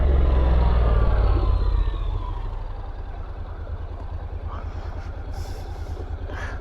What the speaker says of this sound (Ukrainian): Дуже легенький, маневрений, приємний мотоцикль. Дуже приємний звук мотора.